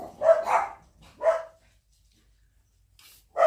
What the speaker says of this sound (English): They found something to bark at.